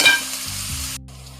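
Onions frying in oil with lemon in a pot for mutton kabsa, a steady close sizzle that cuts off near the end, no voices.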